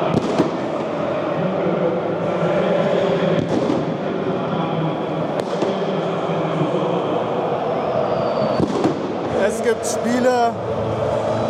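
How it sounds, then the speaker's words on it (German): Dense football stadium crowd roar at a Hertha BSC vs. Hansa Rostock match with scattered sharp bangs of firecrackers going off, plus crackling bursts near the end, all under constant noise. "Was sind das für Böller?"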